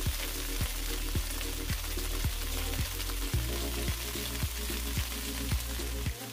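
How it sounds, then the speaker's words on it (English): Asparagus sautéing in olive oil in a pan gives a steady, close sizzle and crackle that runs the whole time. A low, regular ticking repeats roughly every half second underneath, and no one speaks. "we're just gonna go directly in with our asparagus. We're gonna saute it"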